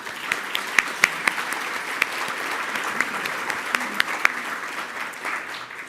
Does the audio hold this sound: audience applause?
yes